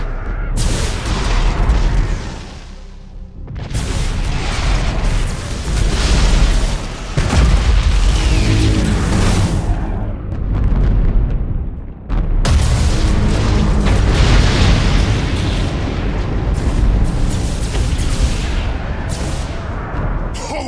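Main batteries on warships fire in the space battle game Battlefleet Gothic Armada 2, with loud repeated booms and roaring explosions rolling one into the next, broken by brief lulls.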